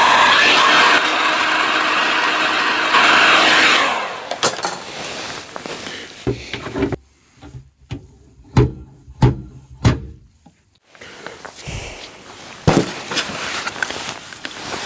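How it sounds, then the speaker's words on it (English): A run of sharp metallic knocks and clanks from a slide hammer pulling a dent in a BMW quarter panel, several spaced impacts in a row, with a steady loud hiss before and between them. "I'll go for the slide hammer as well"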